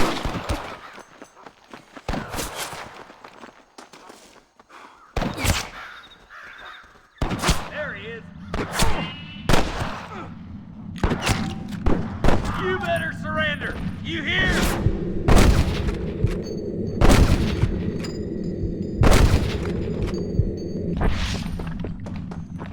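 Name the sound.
sniper gunfire in Red Dead Redemption video game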